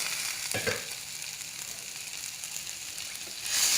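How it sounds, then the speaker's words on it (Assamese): Bitter melon fries uncovered in a pan over lowered gas flame, a continuous even sizzle throughout with a short soft scrape early on and the hiss swelling louder at the very end. "মই এনেকৈ 10-15 মিনিটমান ভাজি থাকিম"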